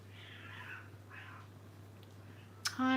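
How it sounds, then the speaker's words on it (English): Cats fighting outdoors behind a house let out two faint, distant yowls in quick succession, followed by a brief nearby clatter. "Now our cats are out the back fighting."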